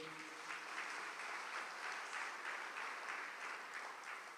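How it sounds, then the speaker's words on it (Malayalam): A congregation at a church talk claps together in sustained, even applause, a faint, dense patter of many hands continuing throughout. "ഒന്ന് കൈയുയർത്തി കൈയടിച്ചേ."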